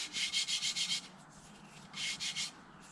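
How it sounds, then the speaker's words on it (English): A TOPSHAK TS-SD5 350W random orbital sander buzzing against wood in two bursts, a rapid pulsing rasp of several strokes, then a pause, then a shorter run; close and fairly loud. "So of course it's sanding, you know, you're gonna make a mess"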